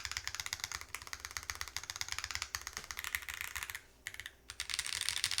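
Steady, brisk typing on a custom-built Glitter65 mechanical keyboard, a dense run of close clicky keystrokes with a brief pause near the end, no talking.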